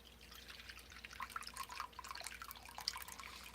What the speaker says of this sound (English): I'm going to pour off the whey, and you can see that it's quite clear